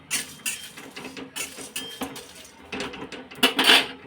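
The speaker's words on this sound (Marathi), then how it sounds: "मायपत्री ही जावित्री हे भाजून घेऊ आता आपण" Mace (javitri) dry-roasting in a pan with green cardamom for Malvani masala, heard as close scraping and clinking of spatula against metal in uneven bursts, with no sizzle and no voices.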